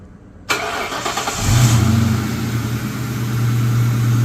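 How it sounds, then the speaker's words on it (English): A car engine cranks briefly and catches, settling into a steady, fairly loud idle with a low rumble that continues to the end; no one speaks. "Now we're gonna start the car, do the same thing."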